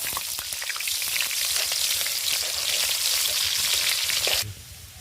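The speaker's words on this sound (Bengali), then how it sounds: "ঘন্টার জন্য তেল দিচ্ছি, পেঁয়াজ তেলে দিলাম" Sliced onions frying in hot oil in a village kitchen for a rohu fish head muri ghonto, a loud, dense, steady sizzle that drops off sharply near the end.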